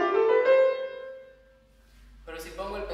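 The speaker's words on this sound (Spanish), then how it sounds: "Si yo toco sin pedal derecho una escala, suena así." A piano scale played without the right sustain pedal, so each note is damped rather than ringing on. Clear, close tones sound first, then a pause, then a fresh run of notes near the end.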